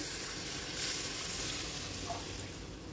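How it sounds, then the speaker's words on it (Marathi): Milk poured into a hot pan of roasted dry fruits for semolina kheer, giving a steady loud sizzle and hiss that runs the whole few seconds without talk. "आता इथे अर्धा लिटर एवढे मी दूध घेतलेले आहे, हे यामध्ये टाकून घ्यायचे"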